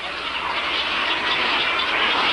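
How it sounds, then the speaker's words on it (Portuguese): Aquatic birds at a breeding colony in the Pantanal wetland form a dense, continuous chorus of overlapping squawks and calls, steady and fairly loud throughout without a break. "O ninhal é uma reunião de aves aquáticas do Pantanal para a reprodução e criação dos filhotes"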